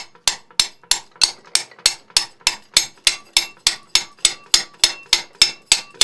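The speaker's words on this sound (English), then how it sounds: "Just tap it on it with a brass hammer." A brass hammer taps a hot tub pump plate on an Aqua-Flo pump that will not spin while bearings are replaced, about nineteen light, evenly spaced metallic knocks in a steady rhythm, close up and alone.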